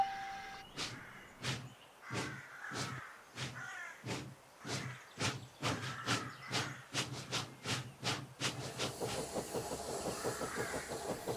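A steam locomotive pulls away with sharp, rhythmic chuffs that start slow and quicken steadily, ending in a continuous hiss of steam.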